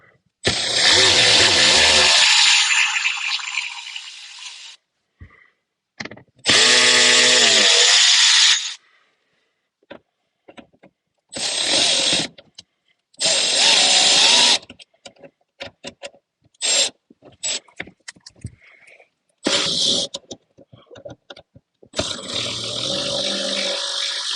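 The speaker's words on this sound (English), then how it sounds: "We're going to use our 220 to remove these screws here," A power tool whirs in loud bursts while removing screws from a Mercedes-Benz S550 during an auxiliary battery replacement, several spins of a few seconds each separated by quiet gaps and light handling clatter.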